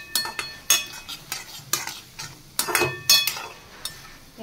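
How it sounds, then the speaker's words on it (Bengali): Chole masala made from boiled kabuli chickpeas fries in hot oil while a utensil stirs and scrapes the pan in sharp, irregular bursts over a light sizzle, close and without talk. "তেল গরম হচ্ছে, আর এদিকে কাবলি ছোলা ভিজিয়ে সিদ্ধ করা হয়ে গেছে, ছোলে মশলা বানাবো।"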